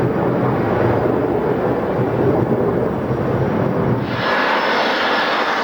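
A Boeing 737 jet approaching to land with one set of landing gear stuck folded up, its broad, loud engine roar steady throughout, shifting to a brighter hiss near the end, with no talking.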